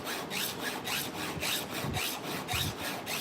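A file sharpens chainsaw teeth in steady, rhythmic rasping strokes, about five even passes, close and continuous with no talking.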